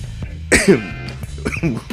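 One sharp, close cough with a rough throat-clearing rasp, followed by quieter breathy throat sounds over a low background hum.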